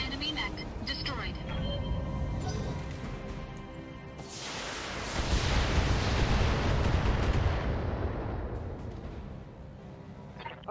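A mech blowing apart in the BattleTech video game after a heavy physical punch, a broad roaring blast swelling midway and rumbling on beneath ongoing speech over game sounds.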